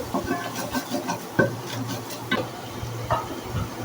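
Spices sautéed and stirred in a pan for a coconut chicken curry, with cinnamon and cumin among them: a soft frying hiss runs throughout, broken by several sharp clicks of a spoon against the pan.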